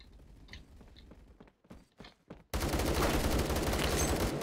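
Rapid gunfire from a teammate in the Phantom Forces shooter game starts with scattered shots and footsteps, then bursts into a loud, continuous automatic stream that fills the second half.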